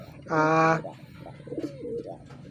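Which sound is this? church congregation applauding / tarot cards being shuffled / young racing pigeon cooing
young racing pigeon cooing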